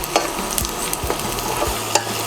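Garlic sizzles in a pan of hot oil as it turns golden brown, a steady crackling hiss punctuated by a few distinct scraping and tapping strokes of a spoon.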